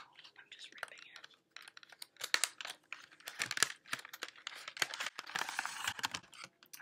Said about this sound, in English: I'm also demolishing this packaging. But this is not what they intended at all. I'm just ripping it.